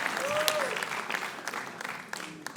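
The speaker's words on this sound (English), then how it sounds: "But a round of applause for all our journalists who keep telling our stories to the world." An audience at a live comedy show applauds for journalists, a modest burst of clapping that tapers off while a voice talks over it.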